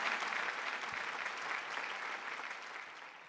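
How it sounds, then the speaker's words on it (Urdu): A live poetry-gathering audience in Dubai gives steady applause, loud at first and slowly fading over a few seconds, with no talking. "میرے آواز کے ساتھ ایک بار پھر تالیوں کی گونج شامل کیجیے"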